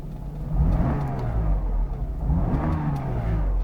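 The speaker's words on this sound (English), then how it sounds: "It's a free revving engine" A Mercedes W124 E280 engine revs up twice in quick succession, a smooth, free-spinning rise and fall heard close and fairly loud, with no voices.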